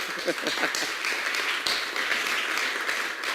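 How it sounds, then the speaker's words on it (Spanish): An audience applauding at a 30th anniversary conference, with dense, continuous clapping at a steady level and a voice speaking over it at the start. "yo creo que un gran aplauso por esos 30 años que se tienen que dar a sí mismos"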